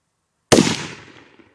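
A single sharp gunshot from a 300 Blackout AR rifle firing a 110-grain VMAX reload, loud and close, followed by a decaying outdoor echo tail.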